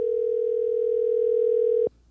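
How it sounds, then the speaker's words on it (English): A telephone dial tone sounds while placing a live call, a single steady, loud tone held for almost two seconds before cutting off abruptly into quiet. "let's go ahead and see if we can possibly get him on the phone"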